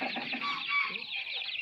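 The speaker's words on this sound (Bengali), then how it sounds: "এটাও সাদাটাও আসলে মোরগ।" A young white rooster, about five months old, clucks in a short run of close, rapid calls, alone without talk.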